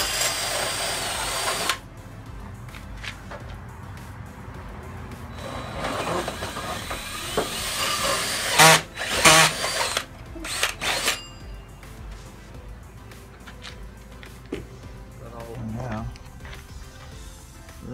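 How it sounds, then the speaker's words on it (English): An electric drill whirs steadily through a cargo trailer wall, bearing down in louder bursts near the middle, while a voice speaks over parts of it. "Drill the hole right here for the finish drilling it out"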